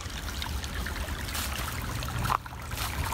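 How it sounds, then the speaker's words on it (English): Water from Wallin Creek on the Buckeye Trail in Brecksville Reservation, Ohio, flows and trickles steadily in winter, a continuous close broadband rush with no voices. "creek that's flowing itself is so beautiful"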